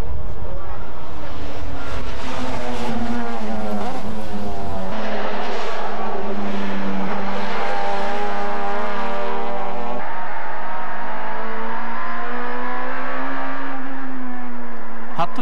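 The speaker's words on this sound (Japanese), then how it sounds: "最終ラップについにクルムが服部の背後に迫る。" A 1996 JTCC Honda Accord touring car racing on track, heard onboard as a loud engine screaming through rising and falling revs with gear shifts, continuous and close.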